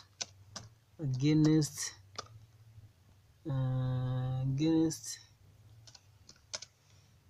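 Computer keyboard keys click in scattered taps and short bursts, near and fairly quiet, between stretches of someone talking during a spreadsheet lesson.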